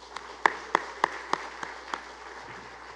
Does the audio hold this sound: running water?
no